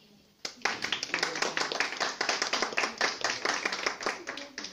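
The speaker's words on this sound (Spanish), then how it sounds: "Aplausos, por favor." An audience claps for two participants being introduced on a TV show set, a steady burst of many hands that starts abruptly and keeps going at full strength with some voices mixed in.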